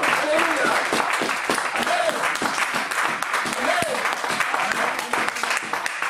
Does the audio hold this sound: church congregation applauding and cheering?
yes